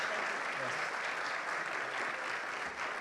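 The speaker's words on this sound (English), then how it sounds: "Chancellor Pumariega, a round of applause." Sustained applause from an audience at a university talk event, steady and dense clapping filling the room without pause, fairly loud and continuous throughout.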